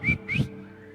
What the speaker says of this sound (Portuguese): Alguém me ajuda com a assobio aqui